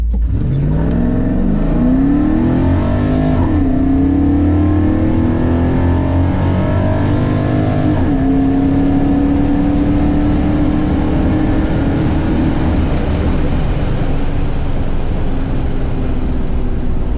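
A 1994 Chevrolet Camaro engine with a CC503 cam revs up from idle, its pitch climbing steadily as it accelerates, loud and close, then holding a strained drone before easing off.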